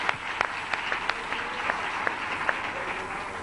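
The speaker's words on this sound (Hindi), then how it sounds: "ताली बजा सकता है?" Audience applause at a Hindi Christian sermon, a steady wash of clapping with a few sharper claps standing out throughout.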